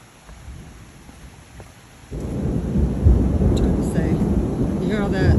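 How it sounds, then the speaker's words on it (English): Low rumbling thunder swells in after a quiet start and rolls on steadily, broad and heavy, with faint higher chirps on top. "you hear all that thunder?"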